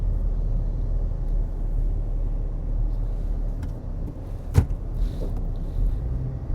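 A used car drives down the road with a steady low engine and road rumble from inside, throttle and transmission working, and a single sharp knock partway through.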